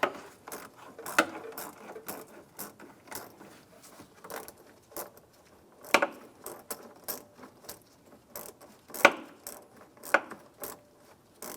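A ratchet with an 8mm socket works a hose clamp on the water pump bypass tube of a 2002-2008 Dodge Ram 1500, giving repeated sharp clicking bursts close up, with quiet pauses between strokes.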